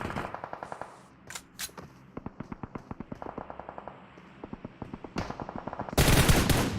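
Gunfire in the mobile battle-royale game PUBG Mobile during a pro scrim, rapid automatic bursts and single rhythmic shots crackling throughout, ending in a loud blast of noise.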